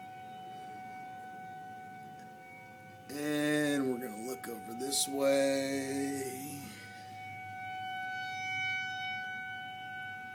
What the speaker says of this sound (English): you can probably listen to the sound of the tornado sirens that are going on